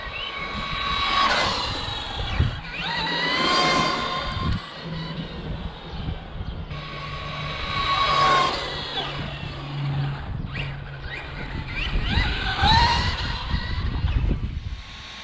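A Remo Hobby 1035 brushless 1/10 RC monster truck running on a 2S LiPo makes repeated whining passes, the electric motor pitch rising and falling as it speeds by three times, with tyre rumble and gravel noise between the passes.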